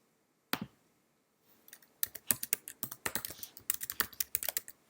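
Fast typing on a computer keyboard, close and crisp: a single click, a short pause, then a dense run of key taps in irregular rhythm.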